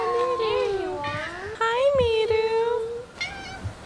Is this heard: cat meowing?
yes